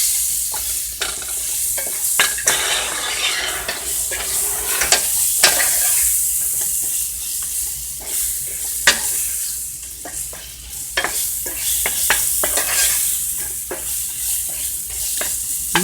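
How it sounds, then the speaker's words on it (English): Meat sears in hot grease in a pan, a loud continuous sizzle broken by repeated sharp crackles and scraping stirs throughout. "I am going to sear them around in the pan in the grease for a little bit"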